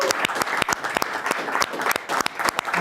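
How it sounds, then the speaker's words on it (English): Audience applause for Tyler Smith at a live sports-night finale, a dense sustained burst of many hands clapping with sharp individual claps standing out, loud and close, no talk over it. "So one more round of applause for Tyler,"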